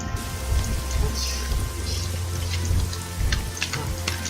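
Rain falls in the video game Spiral Knights as a steady patter of drops over a low hum, continuous and fairly close, with no talk.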